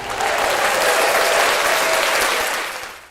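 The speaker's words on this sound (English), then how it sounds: "Let's give him a round of applause." Sustained applause from a crowd, steady and dense clapping that holds for a few seconds before tapering off at the end.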